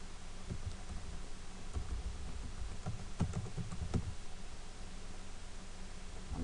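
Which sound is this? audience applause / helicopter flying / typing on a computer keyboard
typing on a computer keyboard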